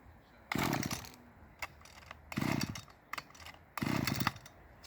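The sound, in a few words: two-stroke petrol strimmer engine starting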